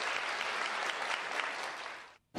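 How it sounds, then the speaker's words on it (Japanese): Thunderous applause from a concert hall audience for the conductor and orchestra at a family maternity concert in Fukuoka, a dense, unbroken roar of clapping that cuts off abruptly near the end. "指揮者と演奏者に割れんばかりの拍手が送られました"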